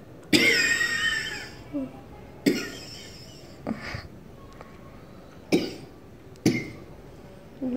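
A woman coughs in several separate hoarse bursts, close by, spaced out over several seconds with quieter pauses between them, after standing over a gas stove.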